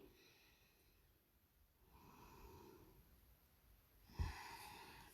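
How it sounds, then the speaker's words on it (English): Deep audible yoga breathing during downward facing dog, slow soft exhalations through the throat in a quiet room, with a sharper, louder breath near the end. "Deep breathing with sound."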